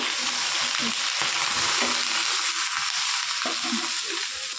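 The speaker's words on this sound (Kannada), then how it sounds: "ಇದಕ್ಕೆ ನಾನು ಸ್ವಲ್ಪ ಎಣ್ಣೆ ಹಾಕಿ ತುಂಬಾ ಸಾಫ್ಟ್ ಆಗೋವರೆಗೂ ಇದನ್ನು ಉರಿಬೇಕಾಗತ್ತೆ" Tomatoes fry in oil in a pan for tomato rasam, a steady, close sizzle with scattered stirring scrapes throughout and no talking.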